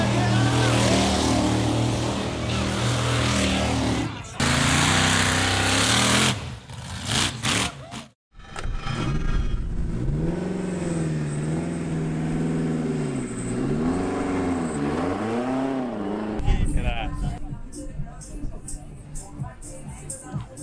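A turbocharged K20-engined Ford Escort at a Ford show revs hard and bangs repeatedly off the rev limiter, loud and close, with sharp stuttering cuts and brief pauses, as people cheer and talk nearby.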